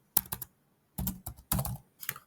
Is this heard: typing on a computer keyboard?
yes